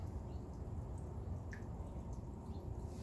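Fresh apple cider trickling out of a homemade press into a bucket, a soft continuous wet drip close by, low and steady with an occasional brighter droplet.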